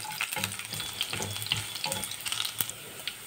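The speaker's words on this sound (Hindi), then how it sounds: "इन सब मसालों को भी अच्छे से भून लेंगे" Garlic, ginger and spices frying in oil for pumpkin curry, a close, continuous crackling sizzle with small spattering pops and faint stirring.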